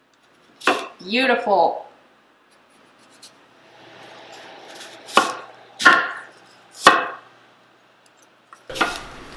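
A knife slices food thin on a cutting board with four or five sharp, separate cuts, close and crisp, after a short spoken word at the start.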